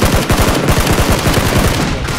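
Rapid automatic gunfire in the video game Battlegrounds, a loud, close burst of dense repeated shots running continuously, without speech.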